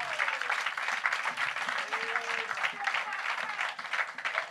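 Steady applause from a church congregation at a Sunday service filling the room, continuous and moderately loud, with a voice faintly audible underneath.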